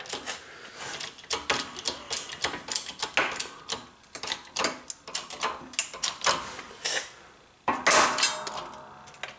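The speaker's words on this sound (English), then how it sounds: "it'll accept the cup that's being pressed out" A staked U-joint cup is pressed out with a tool tightened by a small wrench, giving a run of sharp metallic clicks and taps in uneven rhythm, close by and fairly quiet, ending in a louder metallic snap.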